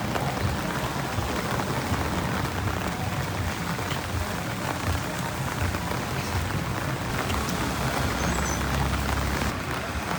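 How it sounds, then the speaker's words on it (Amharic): Steady heavy rain pours down continuously, a dense hiss with a low rumble beneath, close and loud throughout with no voices. "ዝናቡ መጣብን።"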